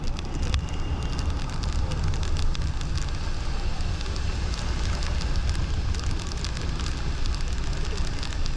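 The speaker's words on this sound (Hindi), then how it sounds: "बारिश हो रही है भाई।" Rain falling on a street during a heavy downpour, a dense, loud and continuous wash of hiss and patter that stays steady throughout the clip, with no talking.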